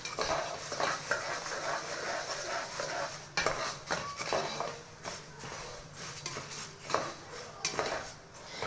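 Rice is stirred in a pot while frying, giving repeated metal scrapes and clinks of a utensil against the pot over a soft sizzle, close up and fairly quiet.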